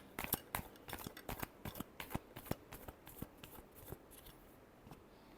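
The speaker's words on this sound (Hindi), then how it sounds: "last shuffle" Tarot cards being shuffled by hand, a rapid run of crisp riffling snaps and flicks close up, quiet and alone with no voices.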